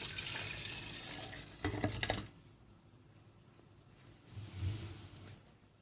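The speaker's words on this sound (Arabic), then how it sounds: "هحط فيه الميه دي برضو المغليه دي وهنضفه برضو بيها" Already-boiled water is poured into an electric kettle to clean it, giving a running, splashing pour that stops midway, then a shorter, softer trickle near the end.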